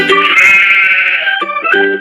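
A cartoon goat in a children's animal game bleats loudly in a wavering, drawn-out cry, followed by two shorter bleats, heard alone and close.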